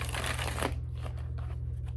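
An oracle card deck is shuffled by hand, making a close, dense riffling rustle for under a second before it fades to quiet handling noise over a low steady hum.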